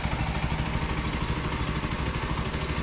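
A Rusi Rouser NS160 motorcycle engine runs steadily at idle after a timing chain and roller guide replacement, a close, even, continuous mechanical thrum with no voices.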